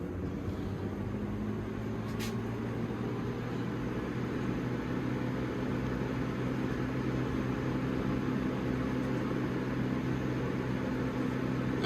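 A Lasko Ultra Force box fan, 1997 or 2000 model 3700 or 3750, running on medium speed with a steady whooshing airflow and a low motor hum, constant and close.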